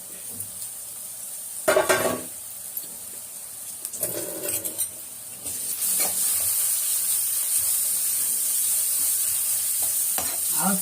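Ginger garlic paste sautéing with onions in a pan for a pepper chicken dish: a few sharp spoon scrapes and clinks against the pan, then a loud, steady sizzle that fills the rest.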